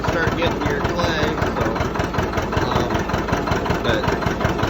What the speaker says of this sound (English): they're just beautiful running tractors